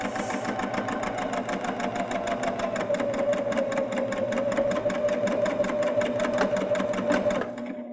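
A Baby Lock Jazz II sewing machine stitches a seam at a steady fast pace, a close, even mechanical whir with rapid rhythmic needle ticking that stops abruptly at the end.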